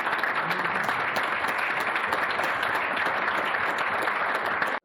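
Loud, sustained applause from an audience at a public gathering in Sarreguemines, dense clapping filling the room without pause until it cuts off abruptly at the end.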